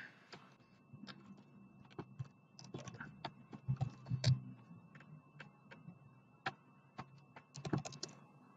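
Keystrokes on a computer keyboard while entering commands in a text editor on Ubuntu Server, a quiet run of sharp, irregular clicks with small bursts of faster taps, close and alone.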